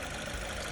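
Steady, even engine idle from a new Suzuki car with about 15,000 km on it, a continuous low hum with no variation over a brief moment.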